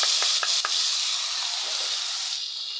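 Rice goes into a pan of browned vermicelli and sizzles steadily as the pan is stirred, with a few scraping knocks early on under a continuous frying hiss.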